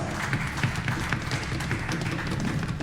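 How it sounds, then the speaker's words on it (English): Applause from a concert audience at a string music final concert, a steady, dense wash of clapping heard moderately close and continuing throughout without pause. "let's applause"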